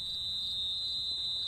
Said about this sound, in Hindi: ये तो चौकीदार की सीटी की आवाज है